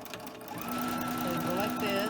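A sewing machine doing free-motion quilting with a darning foot hums steadily and close, its rapid stitching whir building slightly and holding level for the whole stretch.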